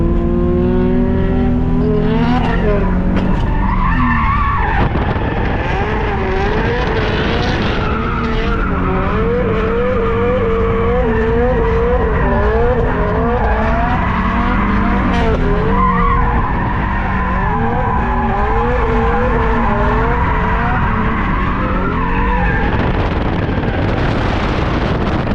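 A drift car circles a track during competition practice, its engine roaring and revving with continuous loud tire squeal and skidding throughout, close and without talk.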